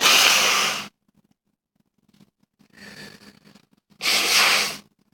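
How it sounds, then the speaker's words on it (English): Someone with allergies lets out loud, breathy sneeze bursts up close: one sharp burst, a long pause with a few faint breaths, then a softer burst and a final strong one, with no talking. "Sorry, I'm gonna be doing a lot of sneezing."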